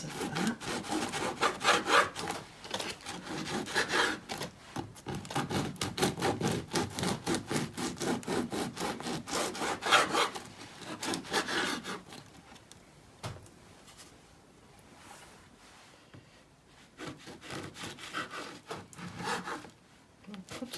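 A knife slicing a couple of pieces from a reduced-price food item, producing repeated rasping, sawing strokes in a steady rhythm at close range, easing off midway before a few more cuts.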